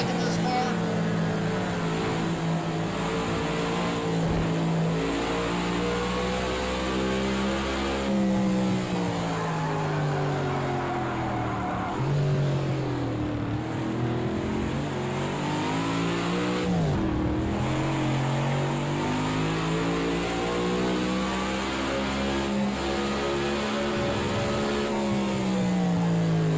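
A race car in the Project Cars video game revs repeatedly toward a very high redline. The engine pitch climbs and falls in long sweeps, loud and sustained throughout.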